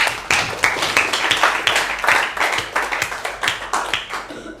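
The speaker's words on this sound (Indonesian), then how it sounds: "Oke, aplaus untuk kita semua." A classroom of students claps together at the close of a coding and artificial intelligence lesson, a loud, fairly rhythmic burst of hand claps repeating steadily and close by before fading out.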